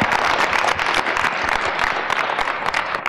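Dense, steady applause from many hands, a continuous crackle of clapping at full level throughout, in what sounds like a studio or audience setting.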